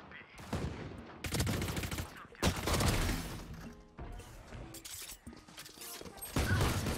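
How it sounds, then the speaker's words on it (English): Bursts of gunfire in the Valorant video game, several rapid volleys and single shots separated by short gaps, loud and close, with occasional mechanical clicks between them. "This guy just shot at me."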